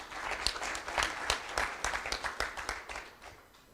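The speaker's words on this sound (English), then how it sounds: "Another round of applause, please." Audience applause at a development partners round table, steady clapping from a moderately sized crowd that fades out toward the end.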